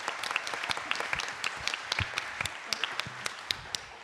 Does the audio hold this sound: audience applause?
yes